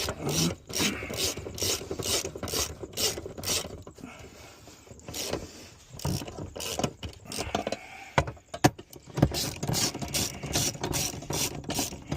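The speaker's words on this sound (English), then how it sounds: "Drill died, so we're just going old school hand crank." Steady rasping, ratcheting clicks repeat in a quick rhythm from a hand crank working on a Trailblazer's back hatch outdoors, close by, with a brief slower pause midway.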